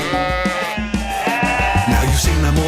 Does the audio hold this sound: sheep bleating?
yes